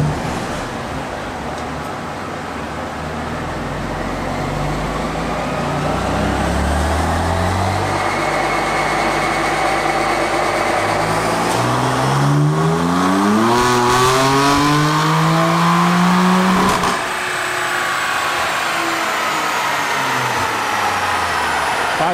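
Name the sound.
BMW F82 M4 engine revving during dyno pull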